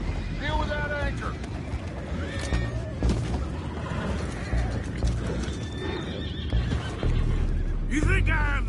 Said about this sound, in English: Boys, go find out about those horses down below.